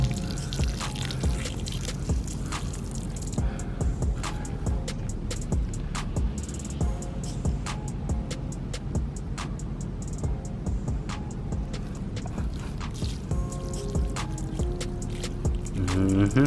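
Water poured into garden soil around a struggling watermelon plant, enough to leave standing water, trickling and dripping steadily and fairly close throughout with no talking.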